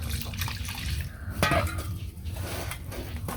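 Cold water trickles into hot pitha dough in a village kitchen, with soft splashes and a clink of utensils against a pot. The sound is close and quiet.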